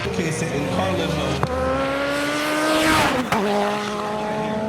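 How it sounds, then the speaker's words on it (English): A Honda Integra-style time attack race car at a 2018 track event runs loud and close, its engine note sweeping up and down through gear changes with sharp shifts and a brief tire squeal as it slows toward the pits. "Looks like Richard Polk is coming into the pits here."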